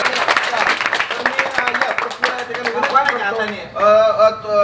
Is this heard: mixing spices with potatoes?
no